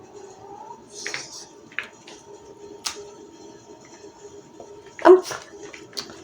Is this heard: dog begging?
yes